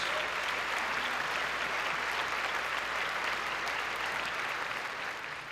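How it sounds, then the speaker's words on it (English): A room full of people at an awards luncheon claps for panelists in sustained applause, dense and steady, tapering off slightly at the end. "Please give our panelists a round of applause"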